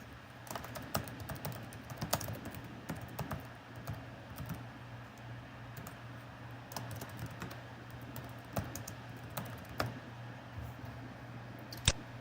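Someone types on a computer keyboard while entering camera-trap species data, with irregular bursts of soft key clicks and occasional sharper taps against a low background hum.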